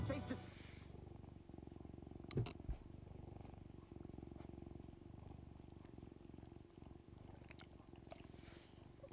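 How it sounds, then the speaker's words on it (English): A cat purrs softly and steadily, sitting on a person's shoulder indoors, a low continuous rumble running throughout with faint background sounds and a couple of brief knocks. "Can you hear him purring?"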